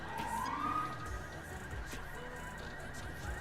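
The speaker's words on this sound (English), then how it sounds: "That siren you hear" A police car siren in a roleplay game sweeps upward, then holds a faint wavering wail at a distance, low under a steady background hum.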